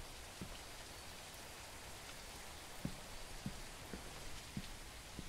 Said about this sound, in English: With this rain, I don't think we have any more customers tonight